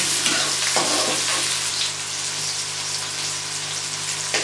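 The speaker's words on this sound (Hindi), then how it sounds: "इसको 1 से 2 मिनट इस प्याज को हम इसी तरह पकाते रहेंगे।" Chopped onions fry in a pan for rice with chicken and vegetables, giving a loud, steady, close sizzle with faint stirring and scraping and no voices.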